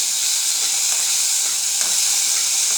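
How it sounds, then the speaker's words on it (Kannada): Chopped tomatoes fry in a pan with a steady, close sizzling hiss that holds level throughout, with no talking. "ಟೊಮೊಟೊನ ಹಾಕ್ಬಿಟ್ಟು ಸಾಫ್ಟ್ ಆಗೋವರೆಗೂ ಚೆನ್ನಾಗಿ ಸಾಫ್ಟ್ ಆಗೋವರೆಗೂ ಈ ಥರ ಫ್ರೈ ಮಾಡ್ಕೊಳ್ಳಿ"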